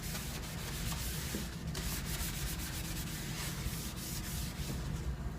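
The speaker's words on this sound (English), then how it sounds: "So now I'm just gonna scrub again, make sure I take everything out." Soaked refrigerator parts being scrubbed by hand, a continuous close, quiet rubbing and swishing with rapid back-and-forth strokes.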